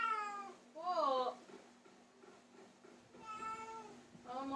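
A cat meows twice with rising, drawn-out cries, close by, separated by a quiet pause, with a faint steady hum underneath.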